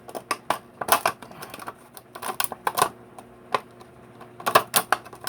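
X-Acto knife cutting through material for small windows: a series of close, sharp scratchy scraping and snapping strokes in irregular bursts, with quiet pauses between them.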